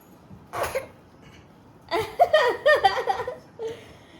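A single short cough, then a run of several quick, breathy coughs close by, with a faint voice at the end.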